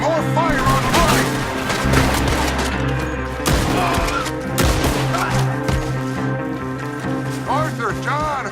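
Gunfire in Red Dead Redemption, a busy fusillade of shots and crashes running throughout under loud shouted voices and a layered game score.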